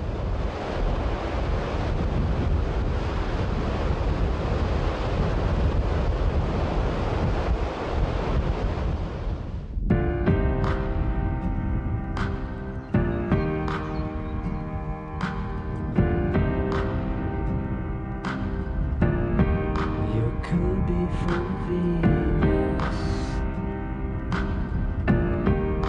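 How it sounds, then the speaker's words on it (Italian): Steady sea surf washes along the Costa Verde coast of Sardinia, a loud continuous roar with wind buffeting the microphone. Tonal music comes in partway through and carries on over the waves. "ascoltando il rumore del mare"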